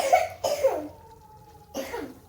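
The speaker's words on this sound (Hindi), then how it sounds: "मैं वॉइस ओवर करने बैठी हूँ और वो बेचारा खांस रहा है" A boy with a cold coughs in two short bursts separated by a pause, fairly close and alone, with a faint hum in the background.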